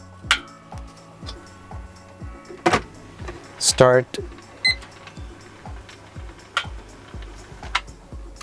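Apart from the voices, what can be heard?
timer ticking during darkroom print fixing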